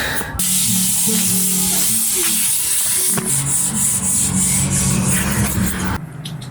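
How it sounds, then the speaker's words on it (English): Loud, continuous sanding on wooden sleep pods for a self-build van conversion, a dense hissing rasp with a low motor-like hum underneath that runs steadily for several seconds before cutting off abruptly. "I'm back on these pods now and I'm going to give them a sand"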